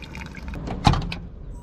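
Water pours through a long extension hose at a distant campground water point, a steady liquid fill with a brief louder gush midway.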